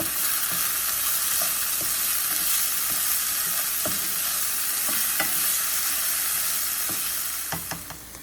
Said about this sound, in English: Just gonna give the onions and peppers another nice little stir